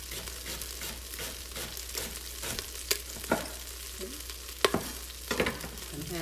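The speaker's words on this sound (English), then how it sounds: "I'm going to add the onions and garlic to it." Onions and garlic sizzle in frying oil for sopa de fideo, a steady soft hiss with scattered spoon stirs and clinks on top, close and moderately quiet.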